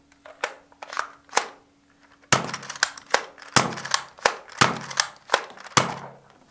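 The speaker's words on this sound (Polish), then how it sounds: "sprawdzimy może jak działa mechanizm strzelania. Naciągamy Naciskamy spust." A Nerf N-Strike Maverick RV-6 toy blaster is cocked and fired by hand: a run of sharp plastic clicks and snaps, sparse at first, then a denser series of loud, close, crisp cracks with brief pauses between them.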